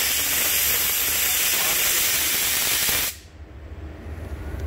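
Steam cleaner nozzle used on a car interior gives a loud, dense hiss that runs steadily for about three seconds and then cuts off abruptly, leaving only a low background murmur.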